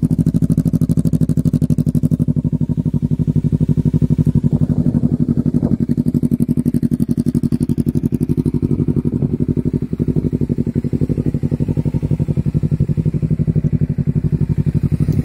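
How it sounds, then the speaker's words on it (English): A motorcycle engine runs close by with a rapid, throbbing exhaust beat, its pitch rising slightly as the throttle is revved and held. "I'm gonna rev it up a little bit"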